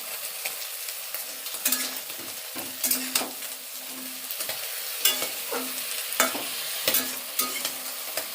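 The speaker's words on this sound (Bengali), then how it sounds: "এখানে মাছ ভাজছে" Fish sizzles in a pan while a utensil scrapes and stirs in repeated strokes, a close and fairly loud kitchen sound without speech.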